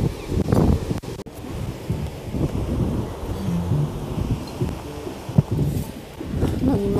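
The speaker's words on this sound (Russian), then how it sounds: "Надеюсь, вам слышно, потому что немножко ветрено здесь, прохладно." Wind gusts steadily outdoors at a market cafe in Goa on a cool afternoon, a continuous low blustery rumble buffeting the microphone with brief louder thumps throughout.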